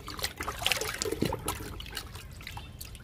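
Liquid fertilizer poured onto potted plants, a soft trickling and splashing stream that is faint and steady, running for a few seconds with small drips.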